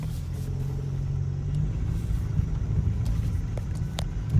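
A worn-out beater car rumbles along at low, steady engine tone as it drives off to be parked, the motor droning continuously with a slight rise near the end and no talking.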